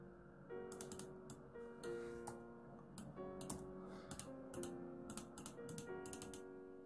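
Keys clack on a computer keyboard while entering text into a cell in an Excel spreadsheet, quick irregular clusters of crisp taps close by over a soft background tone.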